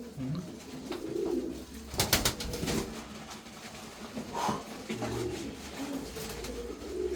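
Racing pigeons coo softly and repeatedly at close range in a loft, with brief wing flutters and rustling between the low calls and no talking.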